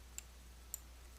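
Two crisp mouse clicks, about half a second apart, sound faint against a low steady hum while working in embroidery software.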